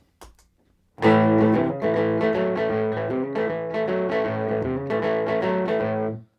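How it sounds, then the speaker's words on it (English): Dry rockabilly electric guitar riff with slight overdrive, played alone in a steady rhythmic pattern of chords and notes, no echo trailing the attacks. "Let's hear what it sounds like with the delay off."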